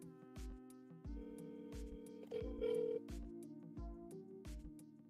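A phone rings with a steady musical ringtone, a loud close repeating tonal pattern carrying through the whole stretch with regular pulses, as during a live fantasy football draft stream.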